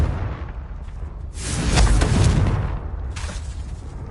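A Confringo fire spell in Hogwarts Legacy bursts into a loud, rumbling explosion that swells for about a second and then fades, followed by a second, weaker blast near the end, with low game ambience continuing underneath.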